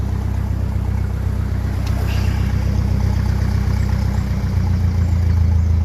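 A 1957 Ferguson 35 TVO tractor engine idles steadily at close range, a deep continuous rumble with a slight rise in low throb near the end.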